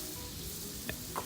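Sauce of beef broth and Worcestershire sizzling as it cooks down on a Blackstone griddle beside ribeyes, a constant hiss with a couple of sharp spatters, close and without talk.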